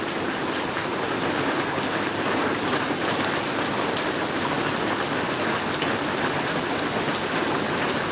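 Heavy rain falls continuously in Maharajpur, a loud, even roar of drops hitting surfaces with no pauses or voices.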